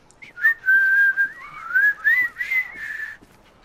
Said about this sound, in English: I've just learned to whistle.